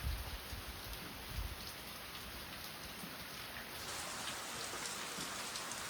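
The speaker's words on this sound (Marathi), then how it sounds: "असा पाऊस पडतोय" Heavy morning rain pours steadily at a farm doorway, a dense, even hiss of drops on surfaces that runs unbroken throughout with no voices.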